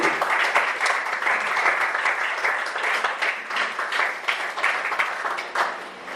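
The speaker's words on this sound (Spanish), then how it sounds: "Denle palmadas de aplauso a lo que digo" A church congregation at a conference session applauds, a full, continuous burst of many hands clapping that swells and dips slightly and eases near the end.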